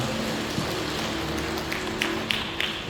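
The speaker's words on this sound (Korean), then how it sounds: "영광의 박수 올려드립니다." A church congregation claps together in steady, dense applause that fills the room, with a few sharper individual claps standing out near the end.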